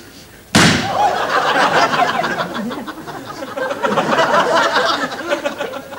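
A single sharp bang rings out in a comedy sketch shootout, a loud close gunshot that cuts through the quiet, followed by a sustained burst of audience laughter and chatter.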